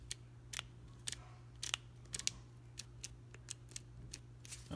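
Snap-On ratcheting screwdriver being switched and turned, giving sharp close metallic clicks in irregular bursts over a faint steady hum, with no voices.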